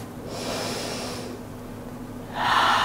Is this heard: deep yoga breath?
yes